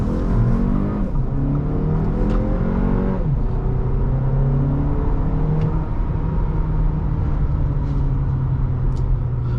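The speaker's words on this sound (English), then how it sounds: "A little bit of turbo lag and a little bit of torque steer as the front wheels put all the power down" A 2024 Audi Q3 45 TFSI with a turbocharged engine and front-wheel torque steer accelerates hard, its engine drone rising steadily through the gears, loud and continuous from inside the cabin with no talk.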